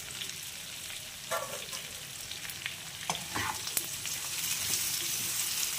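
Vegetables with small tomatoes fry in a pan, a close, steady sizzle broken by brief stirring scrapes and clinks of a spatula, with no talking.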